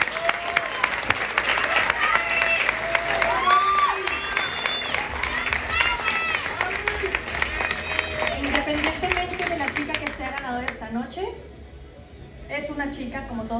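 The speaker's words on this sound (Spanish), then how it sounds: "les pido un fuerte aplauso para todas" An audience at a beauty pageant in Rincón de Guayabitos, Nayarit gives loud, sustained applause and cheers for the contestants, clapping mixed with crowd noise and voices before tapering near the end as someone speaks.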